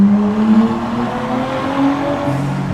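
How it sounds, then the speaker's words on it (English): Engine of a turbocharged street car from Fast & Furious Tokyo Drift revving with a blow-off valve, heard as a loud, steady, close engine drone with shifting pitch and no talking. "I love hearing that blow off valve"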